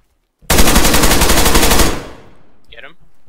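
Sustained automatic gunfire in a video game, a loud, dense burst lasting about a second and a half that cuts off abruptly, followed by a brief faint voice.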